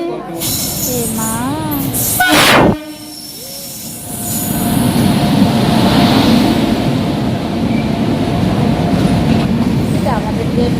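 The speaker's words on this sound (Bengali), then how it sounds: "এটা আমাদের ট্রেন না বাবা, এটা পরে আসবে আমাদের ট্রেন।" A train rolls through a station platform, its steady rumble and wheel noise filling the scene with a brief squeal, continuing loud and close for the length of the clip while voices talk faintly nearby.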